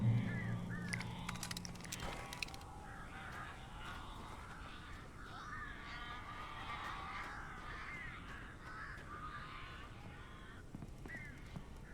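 A flock of crows in a video game caws insistently, overlapping harsh calls piling up over a rumbling ambient background after an opening clatter, fairly close and busy.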